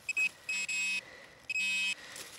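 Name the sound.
metal detector signal beep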